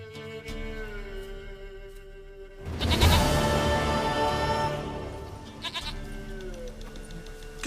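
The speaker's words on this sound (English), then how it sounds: "Goat of mine, dearest, sweetest goat." A goat bleats in the video game The Witcher 3, a drawn-out bleat rising clearly above quiet ambient game sound and music.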